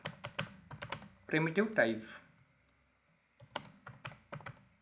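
Keys on a computer keyboard are pressed in quick bursts of crisp, close clicks for shortcut combinations, with a short stretch of voice in the middle before more clattering keystrokes.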